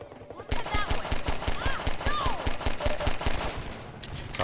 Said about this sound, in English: enemies are shooting now